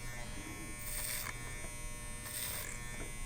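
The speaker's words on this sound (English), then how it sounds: "I'm going to take my clipper over comb, and you can see me taking this a little bit shorter just to match up what I have on that side." Electric hair clipper cutting hair over a comb, a steady close buzz running throughout with slight swells in the motor tone as the blade passes through the hair.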